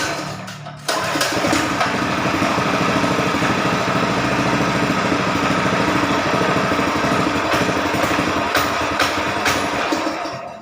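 Multipurpose engine fitted with a gas converter kit starts after a brief quiet moment and runs steadily and loudly at close range, a continuous buzzing drone to the end.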